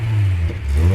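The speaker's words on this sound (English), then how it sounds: "Okay, now typically VR6s sound kind of similar to V6s." A VR6-engined car in Forza Horizon 5 revs with a deep, throaty low drone, a slight dip midway, then building again, loud and close with no speech over it.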